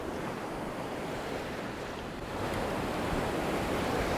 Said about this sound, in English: Wind is blowing straight out of the south.